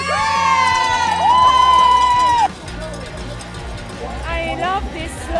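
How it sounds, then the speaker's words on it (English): Spectators at a Killington ski race cheering and whooping, with shouts and cowbells mixed into a loud roar that drops after a couple of seconds as a voice speaks. "The Killington crowd, they cheer on everyone"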